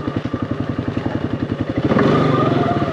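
A brand new 2023 Polaris Sportsman 570 four-wheeler ATV engine chugs in a close, loud, rhythmic idle, then revs up and settles into a denser, steadier drone.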